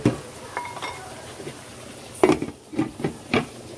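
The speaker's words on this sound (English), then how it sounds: "Give it a good stir." A utensil scrapes and clinks against a pot of sausage in a few short bursts, with faint sizzling underneath and no talking.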